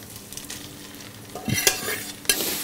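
Barley is stirred into a pan of sizzling bacon and onions. Steady frying hiss runs beneath scraping stirs and a few sharp utensil knocks against the pan, loud and close.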